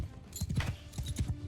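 Horse hooves clip-clop in a quick, steady rhythm during a battle in the video game Mount and Blade II: Bannerlord, several close thuds in succession.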